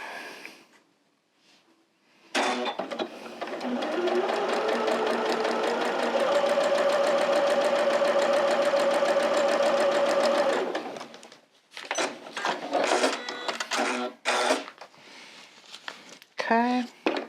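A sewing machine runs steadily for several seconds, stitching Tula Pink fabric up close, then stops; after it a few short bursts of stitching mix with fabric rustling and handling noises.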